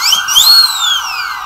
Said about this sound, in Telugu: అరే అది పోలీస్ కాదురా, అంబులెన్స్ సైరన్ రా